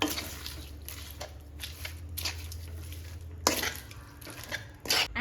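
Gongura chutney being stirred in a pan, with soft scraping and clinks of a spoon against the metal, a few sharper knocks, and a steady low hum beneath.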